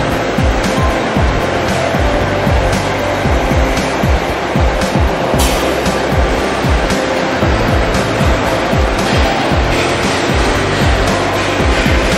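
Automatic pallet changer on a fiber laser machine, its shuttle table driven along twin rails by a synchronous servo motor, with a steady loud mechanical whir and rumble plus repeated clunks and knocks throughout.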